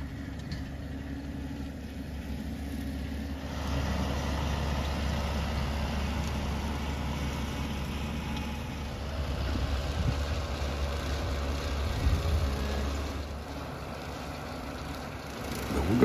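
A tractor engine drones steadily while mowing a wet, swampy field pasture, with a low, continuous rumble that swells slightly partway through and stays fairly even, with no talking over it.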